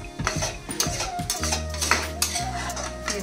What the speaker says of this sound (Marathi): पुन्हा असं छान असं मिक्स करून घ्यायचं आहे आपल्याला.